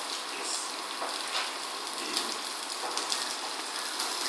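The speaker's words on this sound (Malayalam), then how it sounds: "കടുവിലേക്ക് നമ്മൾ കുറച്ച് ഉള്ളി വാരിയിട്ടു." Onions sizzling in hot oil with mustard seeds in a pan, a steady crackling hiss with small pops, constant and close, no voices.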